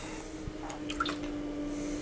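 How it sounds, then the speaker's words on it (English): Water dribbled down the inside of a clay pot on a potter's wheel gives a few faint, soft drips and squishy wet sounds over a low steady hum. "So I'm trying to just dribble some water down the inside there."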